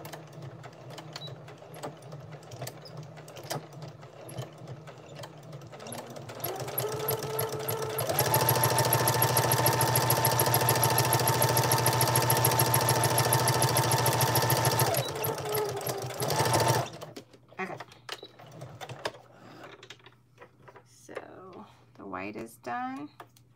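Domestic sewing machine stitching a front panel for machine embroidery, running in a steady loud mechanical whir for about eight seconds with short bursts before and after, a person talking around it.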